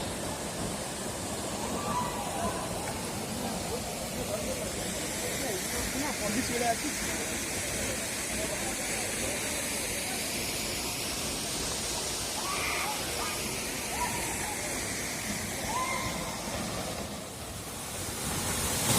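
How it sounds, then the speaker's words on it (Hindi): Steady broadband rush of the Mankadia waterfall in Gajapati, a continuous dense hiss of falling water that stays even throughout, with a voice faintly audible beneath it. "देखते रहिए आप लोग इस सुंदर झरना मांकड़िया का सुप्रसिद्ध"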